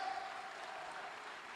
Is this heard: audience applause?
yes